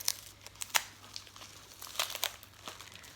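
Plastic packaging from a bulging green tray being cut open, giving faint, close crinkles and crisp rustling bursts at irregular moments, with no voices.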